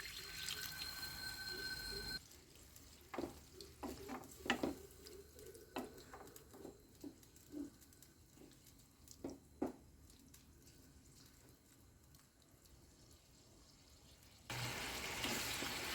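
Second coconut milk is poured into a simmering okra and tomato curry, with soft, faint splashes, drips and wet squishes scattered over several seconds against a quiet background.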